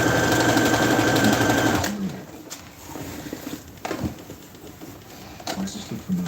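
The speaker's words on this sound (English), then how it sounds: "Make sure I don't sew over the elastic and pin it down accidentally." A sewing machine stitches fabric with elastic in a steady, fast whirring run for about two seconds, then stops, leaving quieter room sounds and a few brief knocks and clicks.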